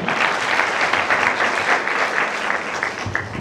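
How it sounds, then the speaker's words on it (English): An audience at a university graduation ceremony gives a dense, steady round of applause, loud and continuous for several seconds before easing slightly at the end. "Can you clap for them?"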